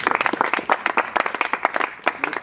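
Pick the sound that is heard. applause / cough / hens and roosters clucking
applause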